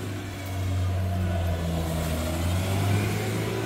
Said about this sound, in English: That's a power steering pump.